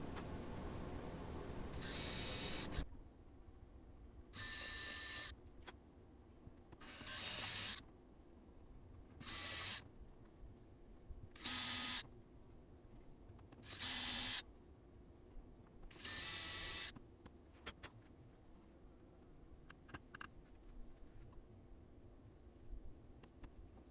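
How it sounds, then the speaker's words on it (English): A small power drill whirs in about seven short, evenly spaced bursts with quiet pauses between, boring small holes in a guitar body, close up and with no talking. "I could drill out all the little holes that are supposed to be those little windows."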